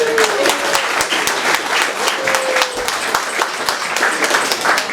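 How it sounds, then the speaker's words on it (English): An audience at a storytelling event gives the book illustrator a steady round of applause, dense clapping filling the room for the whole stretch, with a few voices calling out over it. "Give her a big round of applause."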